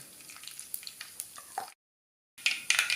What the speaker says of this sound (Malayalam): അപ്പോൾ കടുക് പൊട്ടി തുടങ്ങിയിട്ടുണ്ട്